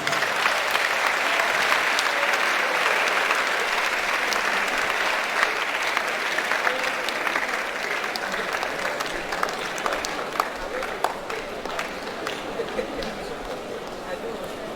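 Sustained audience applause fills a hall during a university orientation programme for fresh students, steady and dense for about fifteen seconds with scattered sharper claps and faint crowd murmur beneath.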